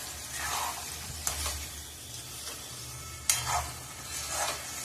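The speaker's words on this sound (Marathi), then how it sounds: "आता मी परत फोडणीला टमॅटो कोथिंबीर कढीपत्ता ह्याची फोडणी दिली आहे" Tomato, coriander and curry leaves hit hot oil for tempering, a moderate sizzle with a few louder crackling bursts and occasional stirring scrapes, no talk.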